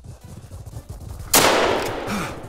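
A single loud 9.3x74R rifle shot in theHunter Call of the Wild booms close by after quiet ambient sound, followed by a long fading echo that rolls away over the hunting reserve.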